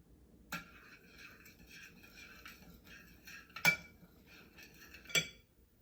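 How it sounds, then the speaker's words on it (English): Zucchini fry ingredients stirred in a bowl, with soft clinks and scrapes of a utensil against the dish and a few sharper knocks, fairly quiet and close. "Mix those up"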